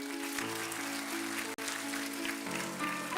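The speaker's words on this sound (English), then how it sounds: "Let's hear a louder applause." Audience applauding at a Grade V school scholar badge ceremony, soft steady clapping in a hall over sustained background music tones, moderate and continuous.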